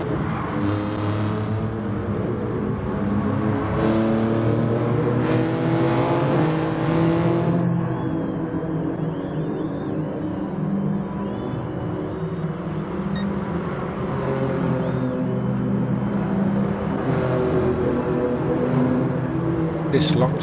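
A race car in GT Sport, a close engine note rising and falling through gear changes and throttle lifts, with someone talking over it almost the whole time.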